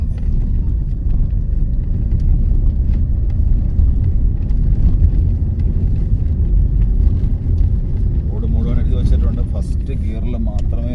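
A vehicle engine in first gear rolls downhill with a steady, loud, low rumble and road noise throughout, and a voice is briefly audible near the end.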